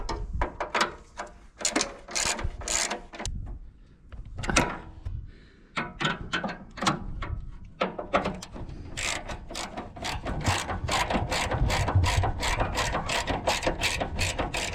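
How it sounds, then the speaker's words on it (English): Close, loud ratchet clicks in irregular bursts that turn into a fast continuous run, as bolts are tightened on the oil cooler of a Krone EasyCut R280 mower. "Tightening up the last of the bolts."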